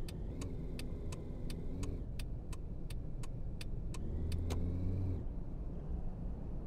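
A car engine in the Taxi Life driving game drones steadily with the handbrake on, a low continuous hum under a regular clicking indicator tick, with a brief rise in pitch near the end.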